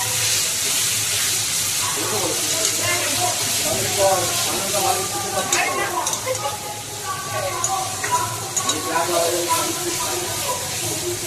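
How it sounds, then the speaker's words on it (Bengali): Coriander powder and ginger-garlic paste stir-fry together in a pan for aloo dum, giving a steady sizzling hiss throughout, with tonal sounds running underneath. "এবার ভালোভাবে একসাথে কষিয়ে নেব"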